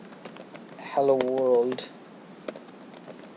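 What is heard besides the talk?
typing on a computer keyboard in Notepad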